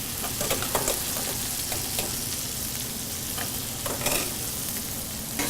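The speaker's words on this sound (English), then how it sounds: "now I'm going to add the gnocchi to the hot frying pan on medium heat" Steady, loud sizzling of gnocchi frying in butter in a hot pan on medium heat, with occasional scrapes and stirring clatters; no voices.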